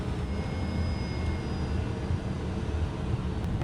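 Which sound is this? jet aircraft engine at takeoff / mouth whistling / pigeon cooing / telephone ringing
jet aircraft engine at takeoff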